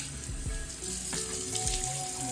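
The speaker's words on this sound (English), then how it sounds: "All right, so let's rinse. I like pretty warm water." Warm water runs steadily from a tap into a sink for rinsing the face, a continuous close hiss and splash with small uneven spatters and no talking.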